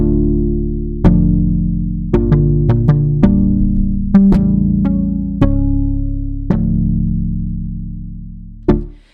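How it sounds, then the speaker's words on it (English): Sustained synth chords change several times with sharp attacks, each held and ringing before the next, ending with one final chord that fades out. "So just the chords by themselves, this is what they sound like."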